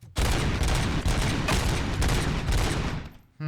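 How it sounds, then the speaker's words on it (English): Sustained rapid gunfire from RoboCop's weapon in RoboCop Rogue City, aimed at a paint can, loud and dense for about three seconds before cutting off abruptly. "I'll shoot that paint can."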